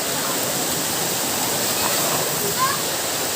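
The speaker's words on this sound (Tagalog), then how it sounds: "Simple rin itong falls ng Mambulo" Steady broadband roar of the Mambulo waterfall at Sitio Purikot in Libmanan, close and continuous, with people talking faintly underneath.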